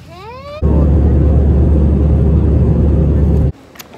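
Steady, loud low rumble of airplane cabin noise after boarding, a constant engine and air drone lasting about three seconds, preceded by a brief rising tonal sound and ending with a quieter hum.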